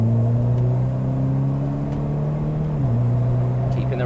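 A Mitsubishi Evo X MR engine drones at high revs under light throttle while driving, a loud steady tone that holds then drops slightly as the gear changes, with faint talk underneath.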